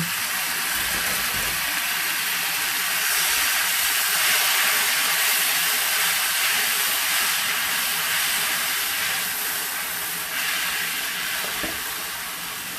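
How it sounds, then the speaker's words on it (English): Noodles tipped into a hot pan with sauce, giving a loud, sustained hiss of steam and sizzling that holds steady throughout. "Dump the noodles right in."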